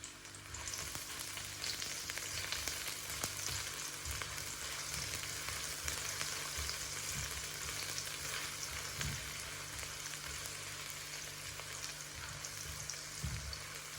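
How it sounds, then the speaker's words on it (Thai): Steady crackling sizzle of shallots frying in hot oil, continuous and close, with occasional louder pops and stirring scrapes. "ใส่ลงไปผัดนะคะ"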